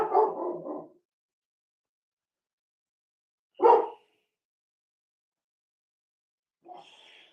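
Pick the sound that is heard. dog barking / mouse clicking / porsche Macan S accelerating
dog barking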